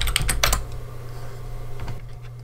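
Keys clack on a computer keyboard as a command is typed, a quick burst of close keystrokes followed by a few scattered taps over a steady low hum.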